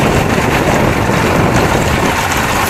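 A Johnson 60 hp outboard motor running steadily at high revs around 5,500 RPM, a loud, continuous close-up roar with no pauses or talking.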